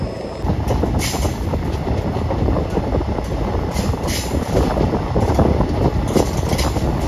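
Continuous rattling roar of a moving train on rails near Thrissur, close and steady, with faint high squeals and clacks running throughout.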